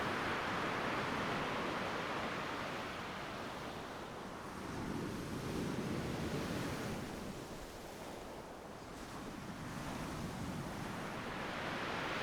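Ocean waves wash onto the shore in a continuous hiss of surf, swelling and easing in slow surges, with no voices over it.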